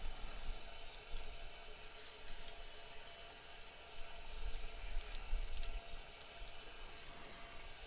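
Liquid pours steadily into a tank in the farming game Farming Simulator 15, a continuous rushing, pump-driven fill with slight surges, sustained and moderately loud without any talk.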